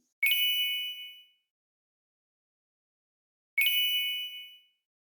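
Two identical bright notification bell dings ring out alone, each sounding once and then fading, spaced about three seconds apart with silence in between.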